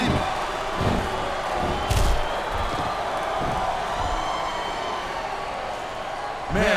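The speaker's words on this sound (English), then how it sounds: "Wow, listen to that chant, Taz." A wrestling arena crowd in WWE SVR 2007 roars and chants in a steady, dense wash of noise, with a few thuds and swells rising through it, no clear voice on top.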